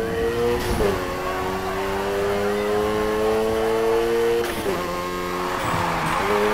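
Simulated car drifting in the Need for Speed Heat racing game: a sustained, loud engine rev holds steady with a faint tire squeal, dipping briefly and climbing again near the end.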